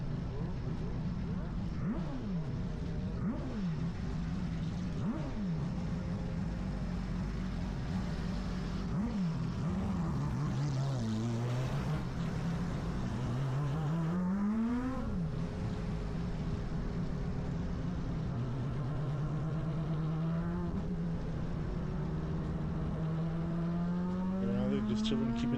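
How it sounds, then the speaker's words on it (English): Several race car engines revving and idling nearby, pitch rising and falling in repeated sweeps, with a steady engine drone underneath throughout. "we hear the cars revving"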